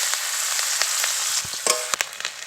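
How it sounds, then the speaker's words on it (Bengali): Chopped onion hits hot oil tempered with five-spice, giving a loud continuous sizzle, followed by a few scraping stirs and knocks of a utensil. "পেঁয়াজ কুচি দিয়ে দেবো।"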